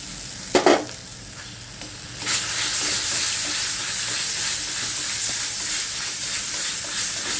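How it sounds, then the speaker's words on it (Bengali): Turmeric and garlic are stirred dry in a frying pan with a steady, close scraping sizzle, preceded by a couple of sharp knocks against the pan. "এখন ভালো করে নেড়ে শুকনো করে নেব"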